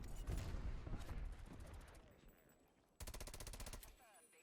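Rapid FFAR 1 assault rifle bursts in a first-person shooter, two quick strings of shots separated by a short lull, close and fairly loud with game effects underneath.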